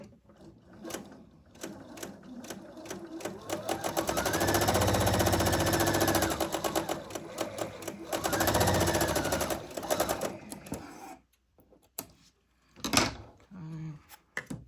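A sewing machine stitches pieced quilt fabric sewn right sides together, running in two sustained whirring bursts of rapid rhythmic clatter, followed by quieter handling clicks and rustles.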